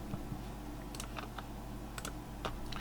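Computer keyboard clicking during a football video game session, faint and close, with scattered single keystrokes and short bursts of typing over a low steady hum, no voices.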